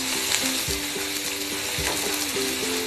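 Chopped onion and green capsicum frying in a pan for Schezwan Maggi, a steady close sizzle with occasional soft scraping from stirring.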